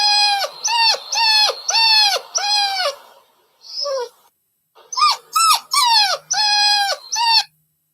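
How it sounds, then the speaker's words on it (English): A small puppy whimpers and whines in a run of high, drawn-out cries, several close together, then a brief pause and another rising series of whimpers, near and fairly loud. "Like a whiny little puppy."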